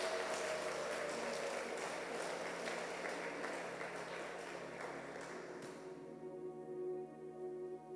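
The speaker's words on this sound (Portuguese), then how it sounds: "Uma salva de palmas para o Marco, vai." A church congregation claps for a member at a Sunday service, a soft, distant ripple of applause over room hum that thins out and fades toward the end, with no voices.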